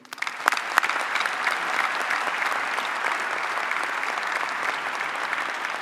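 An audience at an NC State event applauds Chancellor Dr. Randy Woodson. Dense, steady clapping from a crowd fills the room for several seconds, with a few louder claps near the start.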